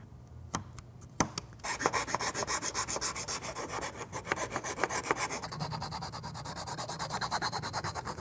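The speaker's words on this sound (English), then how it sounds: "This part's all sanded fairly smooth." EVA foam is sanded by hand on a prop mini-nuke: rhythmic, close abrasive rubbing strokes repeat steadily after a few sharp taps at the start, with the scratching growing brighter and faster toward the end.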